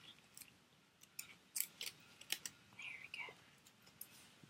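Scissors trim paper for a scrapbook page, a series of quiet, sharp snips and crisp cuts at irregular intervals, close by and faint, with soft rustling between them.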